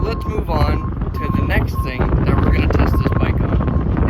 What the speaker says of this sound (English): sorry for the wind, it's a little windy today